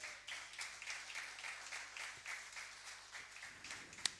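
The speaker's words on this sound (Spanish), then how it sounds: "Dale un aplauso a Él" Applause from a church congregation during a sermon, a steady patter of many hands spread across the room at moderate volume, with a sharper single clap near the end.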